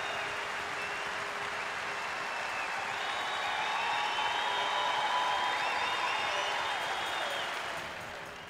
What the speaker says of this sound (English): Great reception from the crowd here